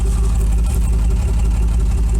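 Ford Granada 3.0 GL automatic idles right after start-up following two months unused, a loud, close, even low rumble through a new exhaust with a faint pulsing throb.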